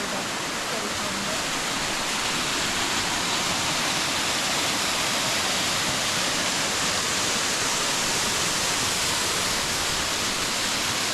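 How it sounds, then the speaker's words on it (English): Minyon Falls on the Tweed Coast, Australia, roars steadily and loudly, a dense wash of rushing water from close by near its base with no break across the whole stretch. "We're walking to the base of the waterfall."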